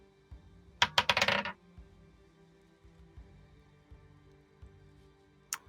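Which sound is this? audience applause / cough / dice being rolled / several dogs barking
dice being rolled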